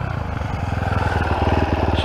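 A Geon GNX 250 motorcycle engine idles in neutral nearby, a steady rapid low thumping putter that holds even throughout, with no voices over it.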